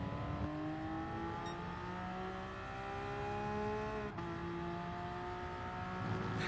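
Tires screech in a racing video game, heard as a sustained, shifting whine over the steady roar of engines while cars race.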